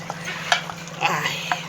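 Plantain slices frying in a pan give a soft, steady sizzle with scattered light clicks and scrapes, all under a low constant hum.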